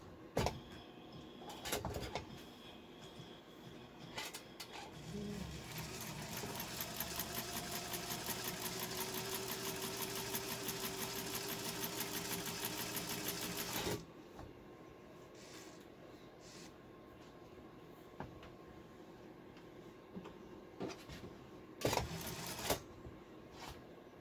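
A Premier Class 15 sewing machine stitches in a steady, fairly loud whirring run of about eight seconds, preceded and followed by quieter handling clicks and taps.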